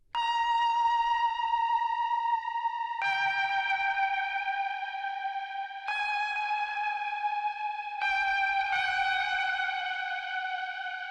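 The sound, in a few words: guitar and Wurlitzer through space echo with reverb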